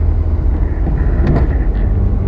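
A Porsche 356 SC coupe engine rumbles low and loud, heard up close as it accelerates, with a brief rise in pitch partway through.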